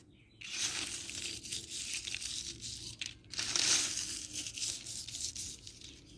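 Dried transagem (plantain) leaves crumble and crackle as they are crushed by hand, a continuous close crinkling with a brief pause midway and no voices.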